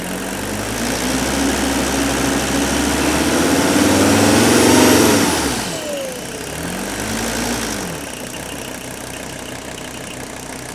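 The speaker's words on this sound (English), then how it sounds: "let's run this up a little bit and see how it's running" An old diesel engine with one or two faulty glow plugs revs up: a steady loud running drone climbs to a high whining peak, then drops back, followed by a second shorter rise and fall before settling to idle.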